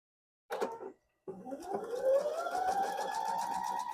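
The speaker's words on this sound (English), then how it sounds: "Now to start stitching all these together." A sewing machine stitching quilt star blocks, with a short burst, a pause, then a longer steady whirring run that rises slightly in pitch, heard close up.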